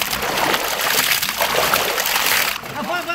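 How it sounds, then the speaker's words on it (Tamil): Water splashes and sloshes steadily as it drains off a large batch of chicken legs during village outdoor cooking. Voices mingle with the continuous pour until it tapers near the end. "இப்படி தண்ணி வடிச்சிடுறோமே"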